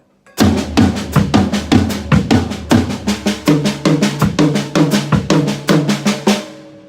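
A steady drum pattern of tom hits and bass drum strokes, played loud and close in a repeating rhythm with no voices.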